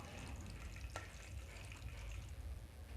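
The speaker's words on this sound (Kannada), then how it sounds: "ತುಪ್ಪ ಕೈದಾದ ಮೇಲೆ ಗೋಡಂಬಿ ಮತ್ತು ಒಣ ದ್ರಾಕ್ಷಿನ ಸೇರಿಸ್ಕೊಂಡು ಒಂದು ಸ್ವಲ್ಪ ಹೊತ್ತು ಫ್ರೈ ಮಾಡ್ಕೊಳ್ಳೋಣ" Cashews and raisins frying in ghee for kesari bath, a faint, steady low sizzle with one brief sharp tick near the start.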